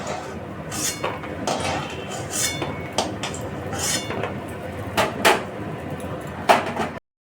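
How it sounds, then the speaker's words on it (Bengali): Fried lentil badis being lifted out of hot oil in a pan, with scattered metallic clinks and scrapes of a utensil against the pan, a few sharper taps near the end, over a steady background hiss. "এখন আমি বড়িগুলোকে তুলে নিচ্ছি বড়ি আমার এরকম ভাজা হয়েছে"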